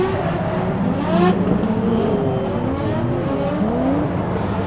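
Drift cars at a drift day in Mobara, Japan, their engines droning and revving continuously, with several rising and falling pitch sweeps layered over a steady loud background roar.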